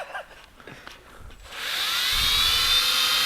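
A Milwaukee drill with a flex hone works the cylinders of a 27-litre Rolls-Royce V12 Centurion tank engine. After a few quiet knocks, a loud, high, steady whine starts partway through and continues to the end.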